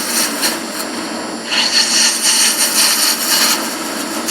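Wood turning on a lathe for a pen stand, a scraper or spindle gouge cutting spinning wood with a steady close hiss and scraping rasp that rises and pulses as the tool bites, with no talking.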